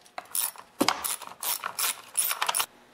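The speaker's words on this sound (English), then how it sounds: "Now I'm going to remove the two 8mm nuts that hold the carburetor and the air breather box." Ratchet wrench turning off the 8mm nuts holding the carburetor and air box on a Stihl MS180/170 chainsaw, quick bursts of close clicking with short pauses between strokes, no talk.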